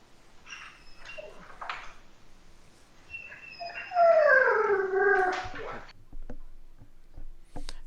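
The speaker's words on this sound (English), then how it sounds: "And while Matt deals with his dog, who sounded like he was being strangled" A dog whimpers and howls up close, starting with scattered whines and rising into a loud, wavering howl with several sliding cries, then trailing off into short yelps.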